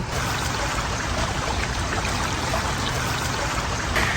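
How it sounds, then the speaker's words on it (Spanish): River stream flowing steadily in the countryside of El Salvador, a continuous close rushing and trickling wash of water with no breaks. "me encontré con este río"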